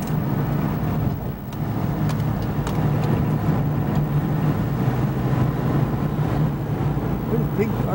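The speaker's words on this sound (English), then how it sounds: "What a big car." A big car passes at close range as a steady low engine and road rumble, holding loud for the whole stretch, with people talking faintly alongside it.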